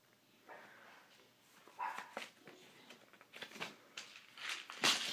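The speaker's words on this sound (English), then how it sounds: "My mom's up with the dog, and she's barking." A dog barks several times indoors, sharp bursts coming close together and growing louder toward the end, with yips mixed in and no talking over them.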